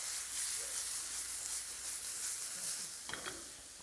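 Chopped vegetables for shakshouka frying in a pan, a faint steady hiss of sizzling with a brief clatter of stirring near the end.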